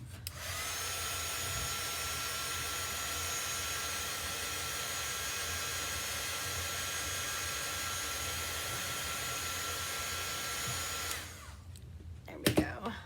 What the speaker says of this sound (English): I'm gonna get my little heat dryer.